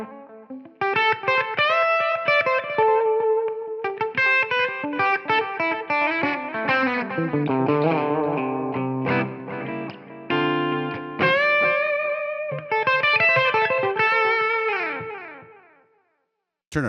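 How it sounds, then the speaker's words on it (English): Overdriven electric guitar through a TONEX ONE amp model and Helix room reverb with transistor tape delay, playing busy melodic runs and chords with repeating echoes, fading to near silence before a final hit. "Back to our room reverb, maybe add a bit of transistor tape delay."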